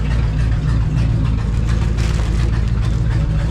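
A car engine running rich idles loud and close with a rough, lumpy low rumble and a busy, uneven exhaust chatter, holding steady throughout with no voices.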